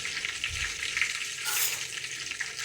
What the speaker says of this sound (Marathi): सर्व बाजूनी मी त्याला हलवून घेतलेलं आहे. वांगे छान असे परतून घ्यायचे आहे.